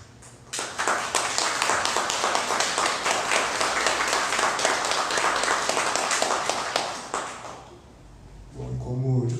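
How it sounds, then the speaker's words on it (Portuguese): A lecture audience gives sustained, dense applause after a talk, loud and close for several seconds before fading, with a voice starting to speak at the end. "eu agradeço os aplausos"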